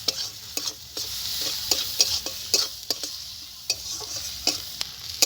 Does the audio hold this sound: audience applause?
no